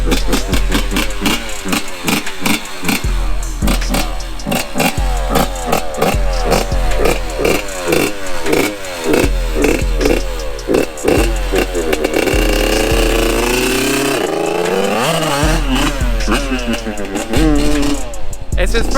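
A Yamaha YZ85 dirt bike engine, a small two-stroke, revs hard again and again, loud and close, with repeated rising and falling throttle blips and a sustained high-pitched wail.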